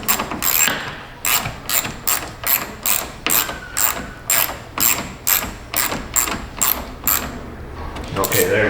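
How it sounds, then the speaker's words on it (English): Small hand ratchet cranking a bolt in on a Nissan Frontier, a steady run of about a dozen rhythmic clicking strokes, loud and close, with no talking. "Put them in with the little ratchet."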